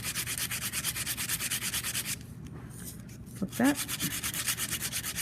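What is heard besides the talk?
sanding with folded sandpaper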